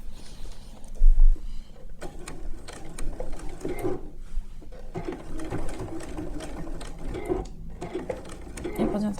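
A sewing machine stitches a button placket onto a panjabi in steady, close, whirring runs that stop briefly now and then, with a person talking over it.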